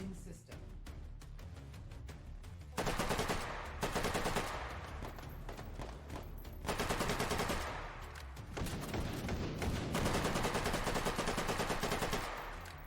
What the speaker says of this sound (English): just putting as many bullets as I can into him.